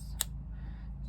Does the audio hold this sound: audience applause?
no